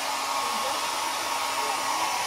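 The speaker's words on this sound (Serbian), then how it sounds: "Lutka se kupala, a Nenad je suši fenom." A hair dryer blows steadily and close up, drying a pet after a bath, with a continuous, even roar that holds for the whole stretch.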